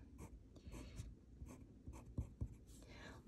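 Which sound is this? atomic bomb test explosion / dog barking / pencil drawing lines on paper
pencil drawing lines on paper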